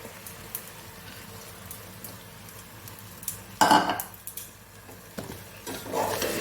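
Rice and lentils for khichdi being stirred in a pot, a quiet background hiss with several louder scraping, clattering stirs in the second half.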